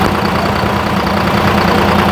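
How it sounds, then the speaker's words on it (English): A V6 Detroit diesel engine idles at an outdoor Welsh show among tractors, giving off a loud, close, continuous low rumble with a rough, knocking texture. "V6 Detroit diesel"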